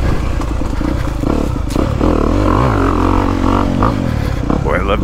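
A 2022 Honda CRF250R dirt bike engine revs and pulls hard on a wooded trail loop, its loud buzzing note rising and falling continuously with clattering and thumps, and a voice speaking over it.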